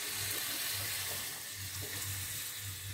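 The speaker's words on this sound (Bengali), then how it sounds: "এবার আমি এর মধ্যে জল দিই," Water poured into a pan of spiced winter vegetables with new potatoes and pumpkin, a steady rushing splash mixed with faint sizzling, continuous throughout.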